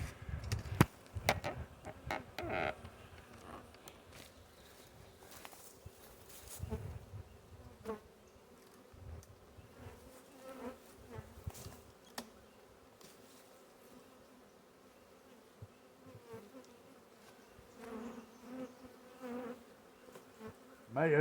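A swarm of honey bees hangs on a trap box and buzzes around it, a dense continuous hum with scattered louder passes of single bees near the microphone and occasional knocks and handling sounds.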